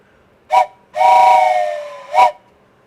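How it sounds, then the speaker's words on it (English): A train whistle from a railway game blows as a short toot, a longer sustained blast that slowly drops in pitch, then another short toot, clean and alone. "a train whistle"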